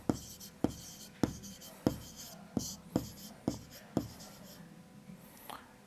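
Pen or marker writing by hand on a board or page during a class-6 maths lesson, a series of sharp regular strokes and taps about every half second, close and clear over a quiet room.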